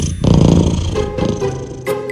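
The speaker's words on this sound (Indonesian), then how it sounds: "Ternyata suara dengkuran itu bukan cuma tanda kucing bahagia loh." A contented domestic cat purrs in a steady, close, low rumble that fills the short clip, with a brief brighter noise near the end.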